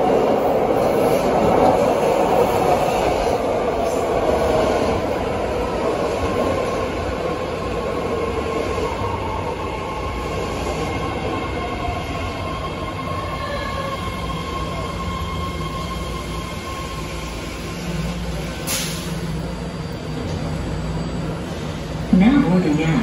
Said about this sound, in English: This is a green line train to Daly City.